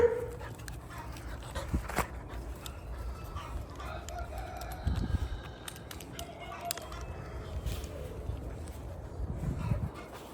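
Dogs bark at a rural spot with chickens and a rooster nearby, the barks coming in short bursts over steady background noise, with roosters crowing and hens clucking and people talking in the background.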